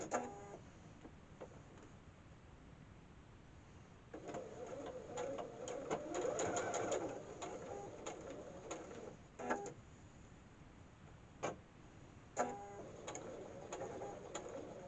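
A sewing machine stitches elastic for a wrist pin cushion in short, quiet bursts of rapid mechanical clatter, stopping and starting several times with near-silent pauses between runs.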